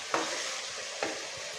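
A masala for potato biryani frying and being stirred in a pan, with a steady close sizzle and two distinct scrapes of the spoon about a second apart, and no talking.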